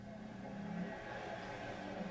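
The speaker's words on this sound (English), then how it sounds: "That's Johnny's old car." A car engine from a TV show hums steadily with a low, continuous drone, moderately loud and unbroken, with no clear revs or voices.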